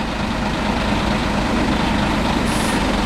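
A heavy Agora V2 city bus rumbles past on a street, with a dense, steady low engine drone throughout and a brief high air-brake hiss near the end. No one speaks.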